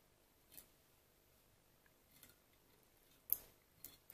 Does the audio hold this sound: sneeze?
no